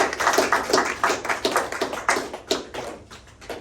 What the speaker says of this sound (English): They need a round of applause or something for what they did.